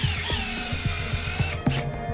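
A surgical drill drives screws into a bone plate on a dog's tibia during veterinary surgery, whirring in a steady high whine broken by short rhythmic bursts and ratcheting clicks, close and alone without talk.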